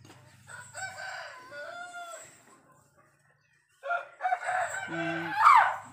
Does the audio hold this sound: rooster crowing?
yes